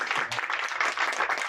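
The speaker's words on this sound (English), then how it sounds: "Can we have another round of applause" A live audience at a meetup on European markets gives a short round of applause, dense and even clapping from many hands filling the room, close and fairly loud, with no talking over it.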